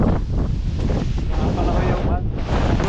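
Strong wind buffets the microphone on a white sand beach in Mindoro, a loud, constant rumble with the wash of sea waves underneath, and faint voices in the background.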